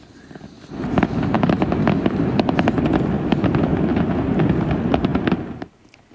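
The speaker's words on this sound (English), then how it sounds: "Fireworks have erupted in the night sky above downtown Los Angeles" Fireworks exploding at night above downtown Los Angeles, a dense run of loud cracks and popping bursts over a rumbling roar that starts abruptly and cuts off after about five seconds.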